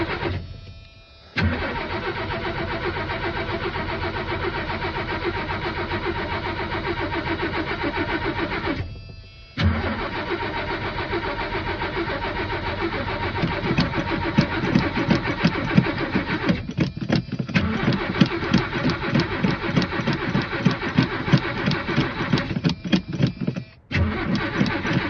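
Old truck engine with a pump needing bleeding, cranking briefly and then catching into a steady mid-pitched idle, cutting out and restarting, later revving unevenly with rough pulsing, loud and close.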